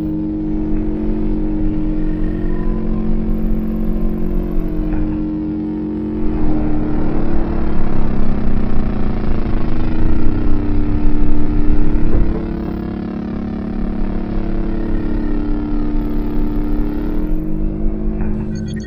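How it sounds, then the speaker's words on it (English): A turbine engine starting and running steady: a loud, sustained droning roar with tonal whine, swelling louder midway then settling, continuous and close, with no talk. "Turn the turbine engine to position L-88. Turn on engine 2."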